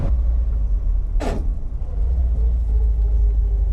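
A 1970s-era Alfa Romeo 105 classic car gives off a loud, steady low engine rumble with one brief hissing burst partway through. No one speaks.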